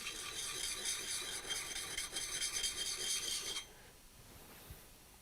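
Steady rasping of a carving knife drawn in small swirling strokes over a coarse sharpening stone, loud and continuous for about three and a half seconds, then stopping abruptly.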